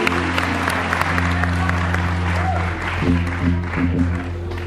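A crowd claps steadily throughout, a sustained wash of applause with a low musical hum underneath.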